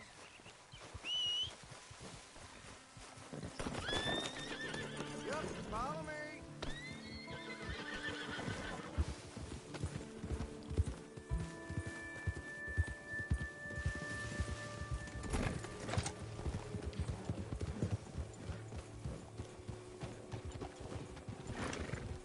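Horses clop along at a lively pace in Red Dead Redemption 2 Online, with whinnies and whistle-like calls, a short spoken line near the start, and hoofbeats continuing throughout.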